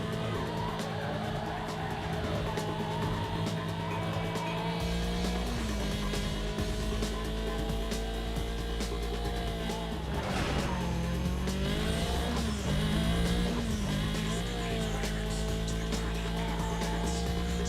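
Race cars in Need for Speed: Most Wanted roar steadily through a three-lap knockout race, engines droning and shifting pitch with bursts of tire squeal and skidding, loud and continuous throughout.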